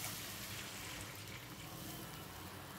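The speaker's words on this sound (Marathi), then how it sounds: "आता यामध्ये पाणी घालायचं आहे" Water poured into a pan of roasted wheat vermicelli, a steady close rushing splash with no speech.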